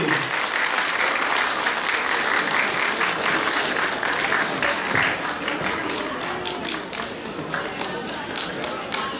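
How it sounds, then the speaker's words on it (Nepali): Sustained audience applause at a Kirat cultural program in Columbus, Ohio, a dense wash of many hands clapping steadily throughout, loud and close, slightly thinning toward the end. "जोरदार ताली, जोरदार ताली।"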